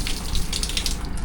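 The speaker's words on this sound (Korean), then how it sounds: "여기 이렇게 조그만 수도꼭지가 주차장 쪽에 있어요." A small outdoor faucet at a riverside campsite parking area runs water in a steady, close splashing stream, moderately loud and alone.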